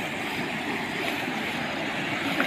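Rushing water of a flooded stream near a village, a steady loud broadband roar that runs unbroken throughout with no voices over it.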